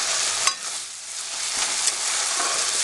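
Masala sizzles and fries steadily in hot oil for a coconut kofta curry, with a continuous hiss and a few soft stirring scrapes of the spoon, close and with no voices.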